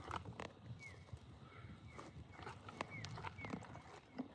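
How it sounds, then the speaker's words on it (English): Horses galloping around a paddock somewhere off in the distance, their hooves making faint, scattered thuds under steady outdoor background noise, with a few brief high calls. "there's horses running around going fucking nuts over there."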